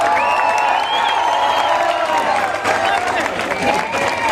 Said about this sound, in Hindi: उनके हर कदम ताल को तालियों के लय में बांट दीजिए